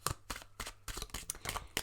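Chakra cards shuffled by hand in quick, papery bursts, about eight short riffles in under two seconds, close and fairly quiet with no talk.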